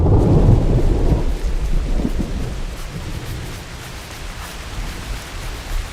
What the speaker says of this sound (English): the ominous sound of thunder began to rumble